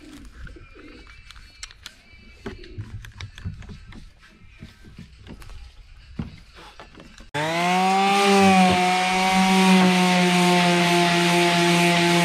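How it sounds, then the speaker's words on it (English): A loud, steady power sander sanding pallet wood starts partway through and drones continuously, with a grinding buzz; before it, quiet scattered tapping and shuffling. "So we'll just keep on sanding"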